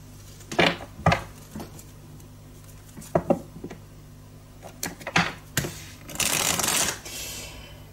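Tarot cards are shuffled and drawn in a quiet room: a series of crisp papery slaps and riffles comes in irregular bursts, with a longer rustling shuffle near the end.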